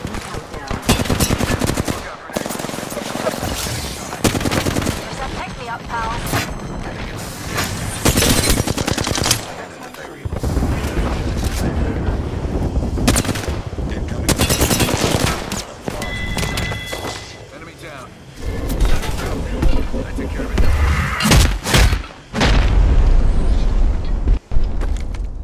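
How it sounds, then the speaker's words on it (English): Video-game gunfire strikes energy shields in repeated loud automatic bursts with short gaps and booming impacts, while voices talk over parts of the fighting. "Being shot at."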